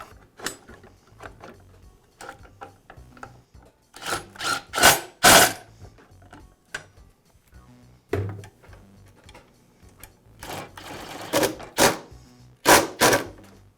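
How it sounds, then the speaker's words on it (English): Guard being refitted on a DeWALT miter saw during a pinion shaft repair: a series of sharp mechanical clicks, knocks and ratcheting clatters in bursts, close and fairly loud, with quiet gaps between. "Now I'll reinstall the guard."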